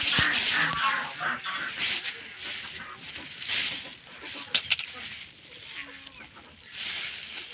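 Chickens cluck and squawk on a farm, several birds calling in bursts at close range, with scattered handling noises and no clear speech.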